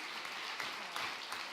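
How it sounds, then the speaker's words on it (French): An awards-ceremony audience claps in a brief, thick burst of applause, even and sustained, with a few louder claps poking through. "L'applaudir encore un peu, je pense."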